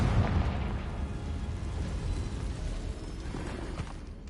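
A Confringo explosive spell goes off in the Hogwarts Legacy video game, a loud low rumbling blast that fills the whole stretch and slowly decays, with no talk over it.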